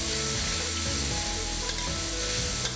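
Minced meat frying in oil in a pan for stir-fry macaroni, a dense, steady sizzle close up with faint stirring scrapes throughout.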